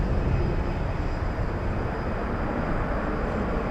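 An American Airlines airliner in Medal of Honor livery at DFW Airport roars steadily with a broad, loud jet rumble that holds throughout.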